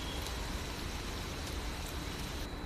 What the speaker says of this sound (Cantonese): 呢一場唔係暴風雨，而係一場穩定而又持續嘅大雨